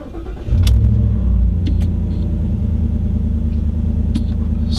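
A 2013 Ford SVT Raptor's engine cranks and fires after a brief quiet moment, then settles into a deep, steady idle rumble, loud and close.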